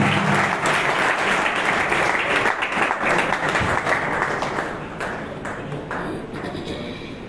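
An audience at an award ceremony claps loudly in a dense burst of applause, which holds strong and then thins and fades toward the end.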